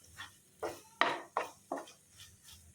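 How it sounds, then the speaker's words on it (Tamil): Mutton pieces being stirred with masala in a pan for cutlets, heard as five distinct scraping, clattering strokes of a utensil against the pan, evenly spaced and close, with quiet pauses between and no talking. "இதை நல்லா ஒரு தடவை மிக்ஸ் பண்ணி விட்டுக்கலாம்"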